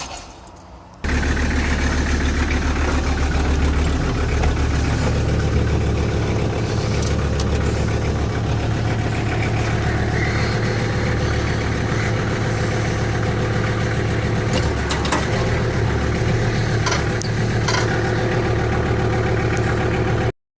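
A steady, rumbling Frontier FM1017 tractor engine idles continuously at close range, with a constant low throb and faint mechanical knocking throughout.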